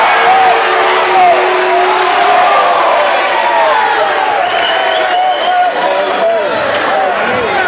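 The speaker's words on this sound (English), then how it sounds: "As the Indians crowd gives the referees the business on the traveling call" Home crowd at a girls' high school basketball game jeering the referees over a traveling call, a loud, sustained roar of many voices with rising shouts, filling the gym throughout.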